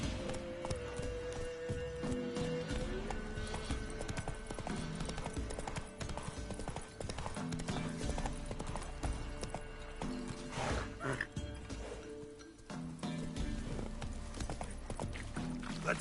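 Roach the horse gallops in The Witcher 3, a steady run of hoofbeats beneath a dense layer of game music and ambience that lasts throughout.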